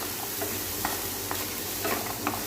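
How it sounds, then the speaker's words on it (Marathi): Ginger and garlic sautéed in a pan for a restaurant-style kaju masala gravy, a steady close sizzle with several scraping stirs of a spoon at irregular intervals. "त्याच्यानंतर अद्रक, लसूण, हे सर्व साहित्य व्यवस्थित परतवून घ्यायचं।"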